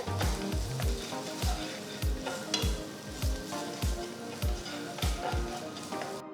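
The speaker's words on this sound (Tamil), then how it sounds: "1 டேபிள் ஸ்பூன் பொடுசா நறுக்கின பூண்டு, 1 டேபிள் ஸ்பூன் பொடுசா நறுக்கின இஞ்சி, 2 நறுக்கின பச்சை மிளகாய் சேர்த்து நல்லா வதக்குங்க" Chopped garlic, ginger and green chillies sizzle loudly in hot oil while a utensil stirs in a quick, regular rhythm of scraping strokes.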